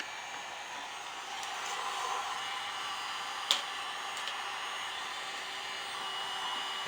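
Heat gun blowing hot air onto a headlight overlay film on a 2013 Subaru WRX, a steady close whooshing roar held throughout with one brief click midway.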